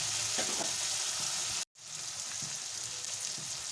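Salted fish roe fries in oil, a dense crackling sizzle heard up close, broken by a brief dropout of silence midway before the frying resumes at slightly lower level; nobody speaks.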